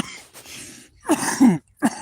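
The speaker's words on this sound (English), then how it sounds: "Hit my vape pen. I'm just coughing." Several harsh coughs close up after hitting a vape pen, a couple of rough bursts followed by one short final cough, with brief quiet gaps between.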